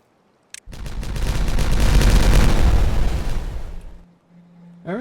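A deep, rumbling explosion in the Timberborn video game bursts in after a click, swelling and rolling for about three seconds before cutting off into a quieter game tone.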